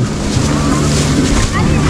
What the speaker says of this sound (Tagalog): Uy, medyo malaking alon.